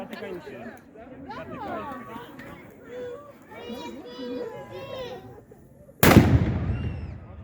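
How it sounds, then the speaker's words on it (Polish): A loud black powder gunshot at a knights' show celebrating a town anniversary cracks suddenly near the end and rings off a tenement building in a long echo, after several seconds of crowd chatter and children's voices. "Odbiło się pięknie od kamienicy, dźwięk. Uwaga, drugi wystrzał."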